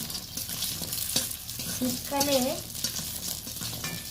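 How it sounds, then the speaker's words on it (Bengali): Lentil bori frying in mustard oil in a pan, a continuous close sizzle with stirring scrapes throughout, while a voice briefly speaks over it. "কিছুটা পরিমাণ সরষের তেল দিয়ে দিলাম বড়িগুলো ভেজে নেওয়ার জন্য"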